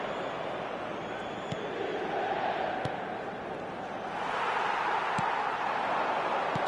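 Stadium crowd roar from an eFootball match, a steady broad wash of noise that swells louder toward the end, with a few sharp clicks on top.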